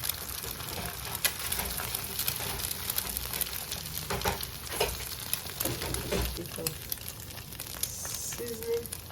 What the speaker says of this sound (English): To this pan, and I add oil.